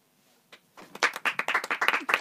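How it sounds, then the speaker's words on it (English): A small group claps in a studio, starting with a few scattered claps and building into a quick, uneven burst of close applause. "Clap here in the studio."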